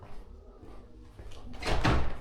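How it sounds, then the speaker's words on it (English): A hotel door in Stratford-upon-Avon swings shut and latches with a loud close-up thud and clatter near the end, after a stretch of quiet room tone. "Oh, it's locked the door on me."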